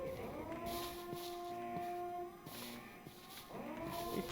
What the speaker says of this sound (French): Eh, c'est quoi cette sirène de quoi, là?